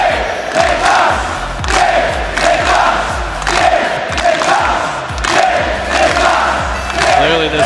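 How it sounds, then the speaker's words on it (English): Loud arena crowd at a Rocket League match in London's Copper Box Arena, chanting in a rhythmic pulsing roar that swells and dips repeatedly. "Clearly this crowd rooting for Dignitas."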